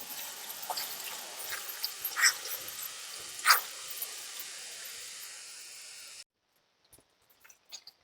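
Tomatoes for rava appe sauté in a pan with a soft, steady sizzling hiss and scattered light pops, which stops abruptly near the end and leaves near silence.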